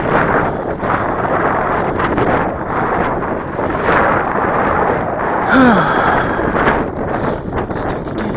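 Strong gusty wind at an RC plane flying field buffets the microphone with loud, continuous broadband roaring that swells and eases, and a brief whine cuts through midway.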